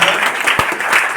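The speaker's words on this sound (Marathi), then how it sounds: "टाळ्या वाजून एकदा" An audience at a ceremony honouring an award-winning farmer breaks into sustained applause, dense rapid clapping from many hands filling the room with no pauses.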